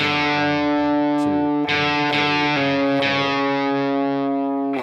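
Distorted electric guitar plays a main riff, a loud, sustained buzzing tone with a few sharp re-attacks, played alone and cutting off at the end.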